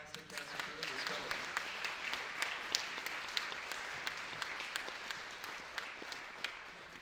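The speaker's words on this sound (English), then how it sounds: "let's give another round of applause for all these fantastic cast and crew in this film" An audience at a film festival Q&A applauds the cast and crew with steady, dense clapping from a crowd in a hall. Sharper individual claps stand out now and then, and faint voices murmur beneath it.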